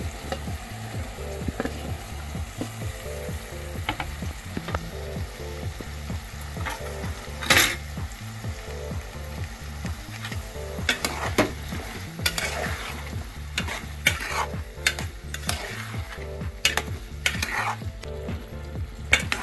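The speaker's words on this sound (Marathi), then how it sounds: "आता यामध्ये आपण घेतलेले फ्लावर बटाटे त्याच्यामध्ये घालून घ्यायचे।" Cauliflower and potato pieces sizzle and fry in masala as a utensil repeatedly stirs and scrapes the pan, producing steady rhythmic scraping and clinking over a constant close frying hiss; nobody speaks.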